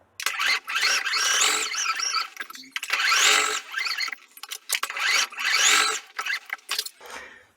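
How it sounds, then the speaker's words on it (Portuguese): Sewing machine stitching a lion's mane outline onto a hooded towel, running in three long bursts of rapid mechanical whirring separated by short pauses, with quick start-stop runs toward the end; close and fairly loud, no talking. "Aqui na máquina eu vou começar costurando a juba"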